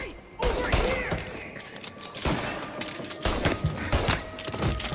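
Gunfire in the video game Mafia, with bursts of rapid shots and heavy blasts crowding together, loud and close, over a continuous roar of game noise.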